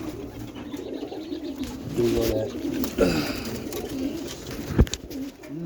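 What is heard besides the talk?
roller pigeons cooing in loft at night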